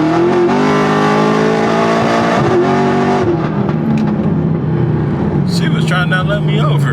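A loud car engine revs and drones continuously while driving on a merge near a drag strip, heavy low engine tone throughout, with a person talking over it.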